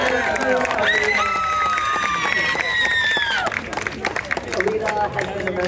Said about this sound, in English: Can we get one more round of applause for Alita?